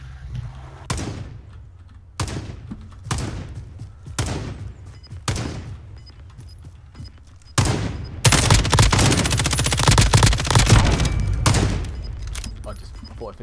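Bursts of gunfire in the Warzone video game, a series of separate sharp shots with ringing tails, then a sustained rapid automatic volley that grows loud before trailing off.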